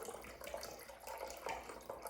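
Rice vinegar is poured into a measuring cup as a soft, steady liquid trickle and splash, close and faint, running continuously for a couple of seconds.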